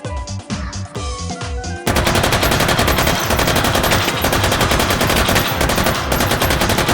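M249 SAW machine gun in H3VR firing at steel targets, starting with a few short bursts before breaking into a long, loud, continuous stream of rapid automatic fire that runs steadily to the end.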